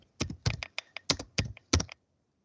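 Fingers type on a computer keyboard, about eight crisp key clicks in a quick uneven burst lasting under two seconds, close and clear, then silence.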